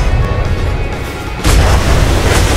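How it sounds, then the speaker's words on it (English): A ship's large port-side cannon fires in a naval video game battle, a loud booming blast that bursts in midway and rumbles on heavily through the end. "I'm on the port side large cannon."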